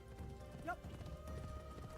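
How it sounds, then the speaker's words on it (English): Horse hooves clip-clopping in Assassin's Creed Shadows, a steady mid-distance gallop rhythm with a brief whinny partway through, layered over in-game ambience without talk. "There's a horse here."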